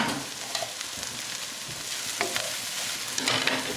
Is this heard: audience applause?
no